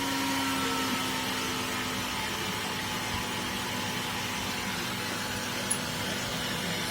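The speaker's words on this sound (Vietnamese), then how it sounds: "Tiếng kêu của quạt nó cũng chậm lại các bạn ha." Small electric fan powered from an old charger turned down to 9V, drawing less current, runs with a steady, even whir at reduced speed, a continuous hum with faint tonal lines and no talk.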